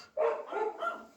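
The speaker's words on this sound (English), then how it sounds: "My dogs are barking." A single faint, short dog bark from somewhere off in the distance, quiet and brief against near silence.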